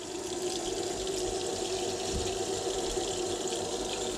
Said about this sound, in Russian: Заполняем холодной водой.